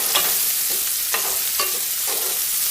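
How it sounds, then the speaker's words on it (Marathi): Masala being sautéed in a pan for a Maharashtrian sanja, a continuous hissing fry with a few soft spatula strokes stirring through it. "छान असे आपण परतायला सुरुवात करू मसाला"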